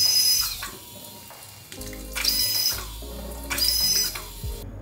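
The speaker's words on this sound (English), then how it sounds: "So that spins really fast, and then it pushes the water out of the nozzle here." A small motor-driven water pump sprays water from a nozzle in bursts, giving a noisy whirring hiss with splashing. Three loud surges are separated by quieter gaps, with no talking.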